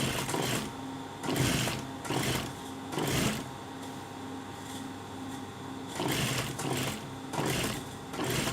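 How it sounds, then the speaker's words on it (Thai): An overlock sewing machine stitching a narrow overlocked seam edge on a round-neck garment, running in close, loud bursts of rapid whirring with short slower pauses between them, and no speech. "แล้วเราก็เย็บ ริมตีนผีตีนผีริมเล็กนะคะ"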